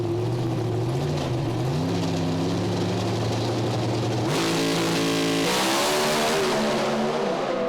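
Pro Stock drag racing cars roar at Sydney Dragway, a loud, continuous engine blare with rising pitch as gears change and a second car's note joins midway, heard from trackside.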